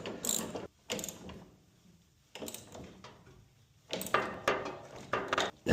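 A fastener on a tractor plow is tightened by hand with a ratchet, giving several close bursts of quick clicking separated by short pauses.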